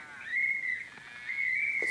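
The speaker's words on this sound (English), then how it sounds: "And I round them up with a whistle" A sustained high whistle is blown to round up cows in the video game Survival Craft. It sounds as two long, steady tones split by a short gap, clear and fairly loud with no talking.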